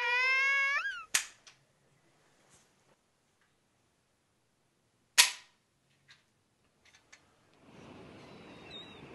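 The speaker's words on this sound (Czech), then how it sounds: "zazněly dva výstřely ve stejnou chvíli." Two sharp, loud gunshot cracks ring out in a Czech film, one just after a short high-pitched musical phrase and another about four seconds later, each followed by faint ticking and scattered small sounds in a quiet setting.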